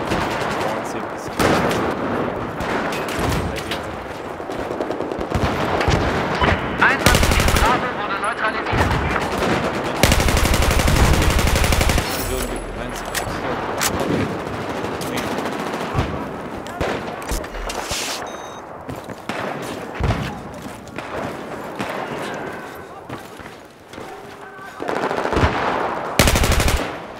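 Battlefield 4 multiplayer gunfire: dense machine-gun bursts and rapid shots fill the whole stretch, with a heavy explosive blast near the middle, while players talk over the battle.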